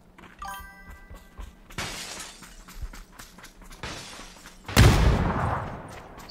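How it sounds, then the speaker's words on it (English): A grenade thrown into a stairwell in PUBG goes off as a loud, sudden boom with a rumbling tail, after scattered clinks and game noise. The blast is close and dominates near the end. "I'm gonna throw a nade into the stairwell."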